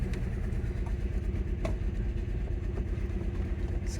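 Volkswagen VR6 12v engine running right after a first start following maintenance repairs and a secondary air pump delete, a steady low rumbling idle with light clattering ticks, close and constant.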